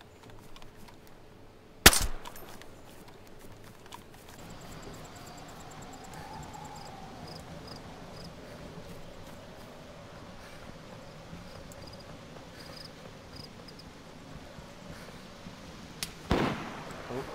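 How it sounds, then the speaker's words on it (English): Sharp gunshots in the game DayZ Standalone ring out near the start and again near the end, two loud isolated cracks over a low wind-like ambience with faint background talk. "I just got shot at."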